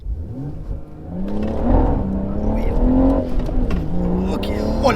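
Loud BMW 140i with a manual gearbox revving hard during a launch test, the engine note climbing and holding steady over several seconds with a voice talking over it.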